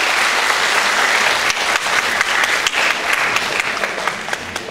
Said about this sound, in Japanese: では皆様の大きな拍手でお送りください。